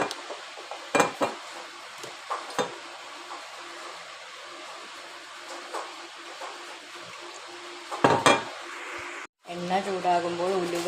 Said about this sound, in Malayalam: ഒരു ചട്ടി അടുപ്പത്ത് വെച്ച് അതിൽ വെളിച്ചെണ്ണ ഒഴിച്ചു കൊടുക്കണം.